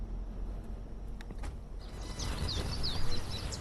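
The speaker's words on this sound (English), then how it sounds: "I'm sure you can clearly hear the birds chirping." Birds chirp in short, bright calls in the open early morning at Kasarani Stadium, fairly faint and some distance off, rising after a steady low background hum with a few soft insect-like ticks.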